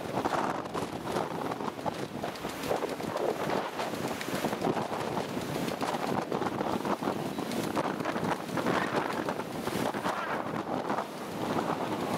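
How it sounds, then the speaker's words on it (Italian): Steady, gusting wind of 25 to 35 knots buffets the microphone aboard a sailboat for the whole stretch, a broad roaring rush with no voices. "C'è la raffica, un po'."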